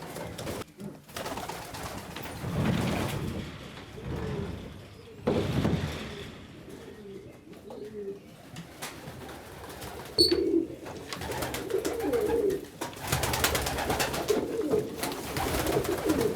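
Short Faced Tumbler pigeons coo softly in a quiet loft, scattered low calls with occasional rustling and light knocks in between.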